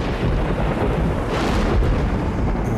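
A violent thunderstorm with torrential rain over the sea off Dubai, a steady loud wash of rain and wind with a deep thunder rumble swelling midway, and no voices.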